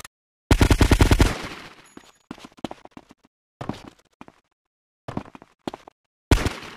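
Gunfire in GTA Vice City Stories, a loud rapid automatic burst followed by several shorter clusters of shots separated by silence, close and sharp.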